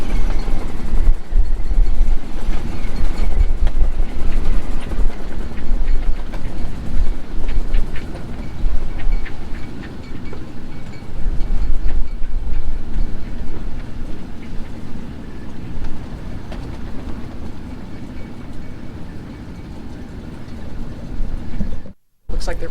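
Strong wind gusting around 30 knots at Simpson Bay Lagoon, Sint Maarten, a loud continuous roar and buffeting throughout that cuts out abruptly near the end.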